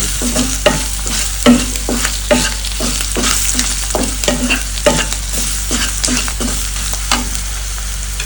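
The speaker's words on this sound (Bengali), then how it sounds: "এবার এই মশলাটা ভালো করে কষিয়ে" A spatula scrapes and knocks rhythmically against a pan while a spice masala of chili powder and salt sizzles and fries, the stirring strokes coming in regular, loud, close strokes over a constant low hum.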